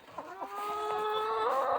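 Hens cluck and warble inside a winter coop, several birds overlapping in a steady, close chorus of rising and falling calls with no talking.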